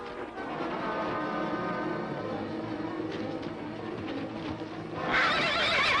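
A horse whinnies loudly, with hooves clattering nearby and a sharp burst of noise near the end.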